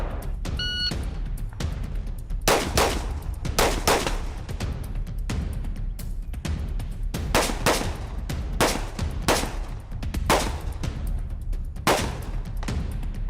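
A rifle fires repeatedly at a quick, fairly steady pace, about eight sharp shots over a continuous noisy outdoor background, with no talking.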